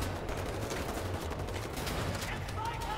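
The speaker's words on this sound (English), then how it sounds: "Let's just stick with the shotgun." Rapid shotgun blasts in the first-person shooter Wolfenstein: The New Order, a dense continuous barrage of loud gunfire with chaotic combat noise and no pause.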